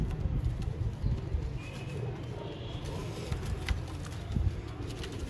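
Domestic pigeons of a home-bred line coo softly amid a busy outdoor background of low rumble and scattered noises, the calls faint and partly masked.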